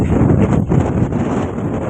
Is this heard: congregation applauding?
no